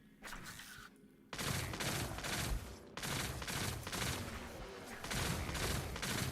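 Gunfire in the video game Destiny Rising, dense bursts of rapid automatic shots in several sustained volleys split by brief pauses, loud and close throughout.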